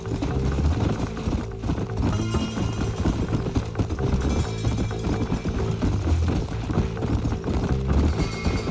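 Horse hooves gallop in the Western game Red Dead Redemption, a continuous loud clip-clop over rumbling ground and background score, with no talk.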